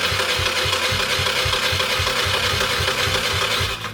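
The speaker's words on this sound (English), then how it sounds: "We're gonna try this new carburetor out, turn it over, and see what it does." A 50cc engine fitted with a new carburetor runs loud and close for a few seconds, a steady buzzing drone over a regular low thumping pulse that cuts off at the end.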